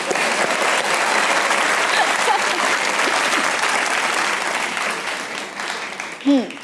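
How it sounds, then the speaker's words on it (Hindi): A studio audience at a comedy talk show claps steadily and loudly for several seconds, the applause tapering slightly toward the end. "ऑडियंस बैठी हुई, इनके लिए तालियां होनी चाहिए।"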